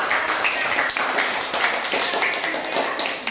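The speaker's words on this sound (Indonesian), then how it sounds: "tepuk tangan dulu buat kelompok" A class claps for a student group, a moderate burst of sharp hand claps from a small roomful of students, fairly close and steady, with faint voices mixed in.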